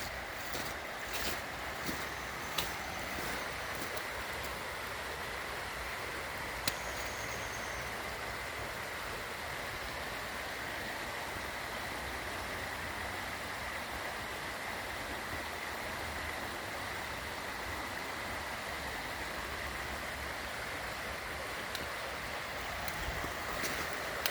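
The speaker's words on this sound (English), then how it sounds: "Here's the Pennypack Creek." Pennypack Creek in Pennypack Park flows with a soft, steady wash of water, faint and even, with occasional light clicks and ticks nearby.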